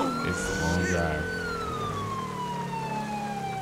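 A police car siren in the video game GTA 5 wails steadily and loudly over continuous road and engine noise during a highway patrol drive, with a brief voice at the start.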